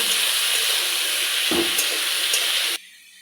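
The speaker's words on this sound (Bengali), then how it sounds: "এবার এই সবজিগুলোর মধ্যে লবণ আর অল্প সামান্য একটু হলুদ দিয়ে আমি ভালোভাবে এই সবজিগুলোকে ভেজে নেব।" Vegetables frying in a pan with salt and turmeric for shukto, a loud steady sizzle with a brief stirring rustle midway, cutting off abruptly near the end.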